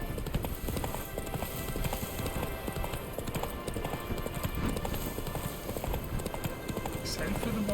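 In The Witcher 3 video game a horse gallops with rapid, continuous hoofbeats, steady clip-clop rhythm under faint background voice chatter.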